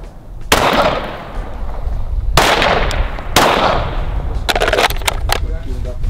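Pistol shots fired at a target 10 yards away during a training drill, three sharp loud reports spaced over several seconds, with quieter pops and talk around them.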